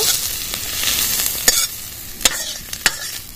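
Onion and chilli frying in hot oil, a close, steady sizzle broken by several sharp scrapes and clinks of a spatula stirring in the pan, with no talk.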